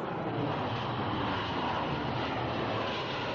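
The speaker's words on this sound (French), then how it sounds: "Le 2 mars 1969, le Concorde prend son envol pour la première fois à l'aéroport de Toulouse-Blagnac." Concorde supersonic airliner on its first flight at Toulouse-Blagnac airport in 1969, a steady loud roar of jet engines that holds constant without breaks or voices.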